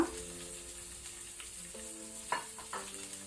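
Urad dal with green chilli and ginger frying on a low flame for a festival usli, a soft, steady, faint sizzle running throughout with no voices.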